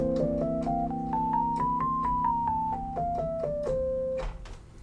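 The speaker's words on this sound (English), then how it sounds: "the most common bebop scale is probably our dominant bebop scale" A dominant bebop scale played note by note in an even, steady rhythm, rising then falling back down over a sustained low accompaniment, ending on a held note.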